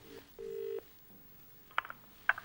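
A telephone call rings out on the line: one short burst of steady ring tone, followed by a few faint clicks and quiet line hiss.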